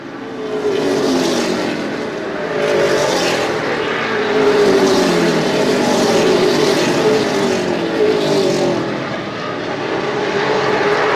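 Race cars roar around the Desoto Speedway track, a dense, continuous engine drone with surging waves as cars pass and accelerate, loud throughout with no clear gaps.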